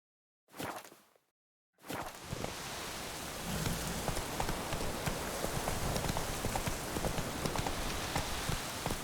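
Horse hooves clip-clop steadily along in The Witcher 3, a continuous close rhythm of hoofbeats mixed with rain falling on the ground, starting after a brief burst and a moment of silence.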